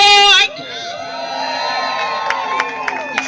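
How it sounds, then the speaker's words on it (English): A crowd at an Amtrak train arrival event in Chipley, Florida cheers and whoops loudly after a short amplified voice, sustained celebratory shouting with scattered high yells over the steady roar. "You could hear the celebration in the crowd"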